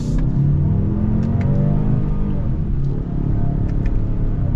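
A 2022 Lincoln Navigator Reserve's engine revs while shifted manually, a loud close rumble that rises and swells with a short dip midway, heard alone without talk.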